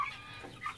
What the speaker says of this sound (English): the big chickens ran in here and scared them